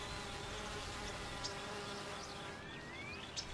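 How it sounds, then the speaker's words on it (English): Dense, steady buzzing of many honeybees close by at a hive entrance, with individual insects droning past now and then. "Worker bees stand guard at the entrance of the hive"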